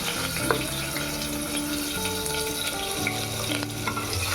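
Onion frying in a pan for khaar vang, a spicy Maharashtrian brinjal masala with curry leaves already in the oil, gives a steady close sizzle with faint scraping of stirring throughout, no voices.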